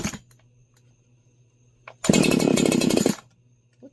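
A ported Stihl 4910 chainsaw as its engine dies, with a loud, rough clutch rattle about a second long, set between faint clicks and near silence.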